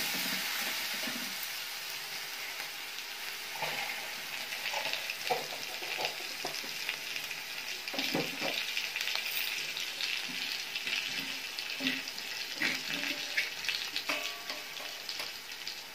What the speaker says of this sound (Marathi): जिरं तळलं आपण हिरव्या मिरचीचा ठेचा टाकून घ्यायचा। व्यवस्थित हलवून घ्यायचं।